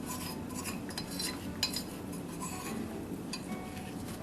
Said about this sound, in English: Using your service tool, scrape out any of the debris and clinkers that may be left in the ash burn pot.